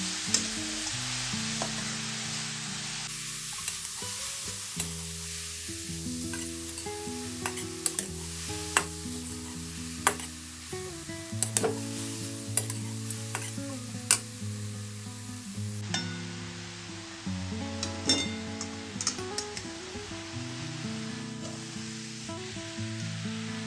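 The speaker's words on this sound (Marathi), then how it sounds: "पाच मिनिटं छान असं परतून घ्यायचे." Grated carrots for gajar halwa sauté in a pan over medium heat, a steady soft sizzle with scraping stirs and occasional clicks of the spoon against the pan, close and alone.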